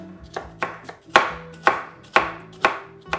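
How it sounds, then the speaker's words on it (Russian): Half a sweet bell pepper being finely chopped with a knife on a board, a steady series of sharp, close knocks at roughly even intervals with no talking. "Следующий ингредиент – половина сладкого болгарского перца. Его я также порежу мелко."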